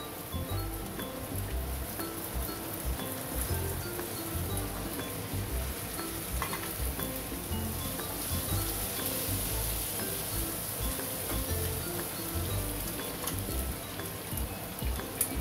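Diced onions frying in a pan for veg Manchurian, giving a continuous close sizzle with a rain-like crackle and occasional stirring, steady in loudness throughout.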